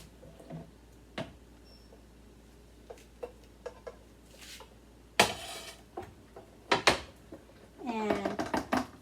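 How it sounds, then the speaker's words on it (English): A tray is set over a Fourth of July cool dessert in its mold and flipped, giving scattered close clinks and knocks and a louder clattering scrape, then rattling taps near the end. "I got this tray here that I'm going to put over the top, and we're going to flip it."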